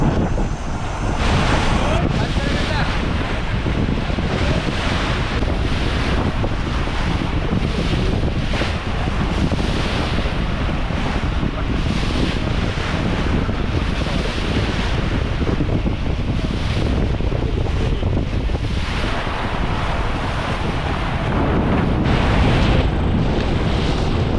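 Strong wind roars steadily into the microphone aboard a deep-sea fishing boat in light rain, with the wash of sea waves beneath, a continuous loud rush that never lets up.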